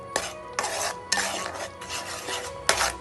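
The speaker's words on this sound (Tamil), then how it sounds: "அதை நல்லா இதில் கலக்கி விடுங்க." Ground flour is stirred into syrup in a pan for kadalai paruppu laddu, a spoon rasping and scraping in a handful of close, rhythmic strokes with no talking.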